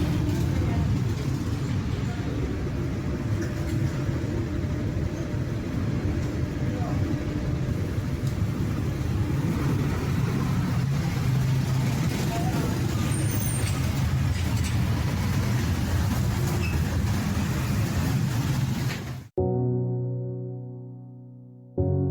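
Scooters board a ferry to Butterworth in Malaysia, a continuous loud rumble of engines and vehicle noise with a brief hiss like an air brake, followed by a short burst of music at the end.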